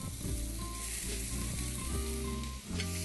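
Pork chops hit a very hot grill sprayed with canola oil, giving a loud, close, continuous sizzle with crackling texture and no voices.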